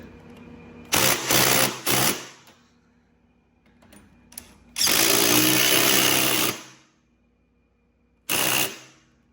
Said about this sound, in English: I'm gonna go ahead and tighten these down